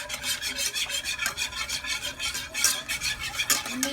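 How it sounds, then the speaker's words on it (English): A whisk works quickly through sauce ingredients for Alfredo in a bowl, a close, even rhythm of soft scraping strokes with no voices. "I'm just going to whisk this together"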